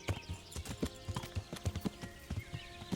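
Rhythmic clip-clop of horse hooves at a steady trotting pace in the video game Kingdom Come: Deliverance, close and clear, with faint ambient background.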